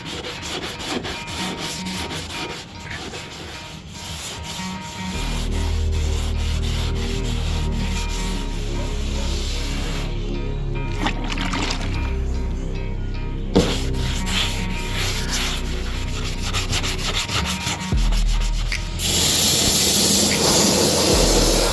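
Steady rasping strokes of hand sanding on the body of a 1959 GMC pickup truck, scraping back and forth continuously and close up, with a brief pause partway through and no talking.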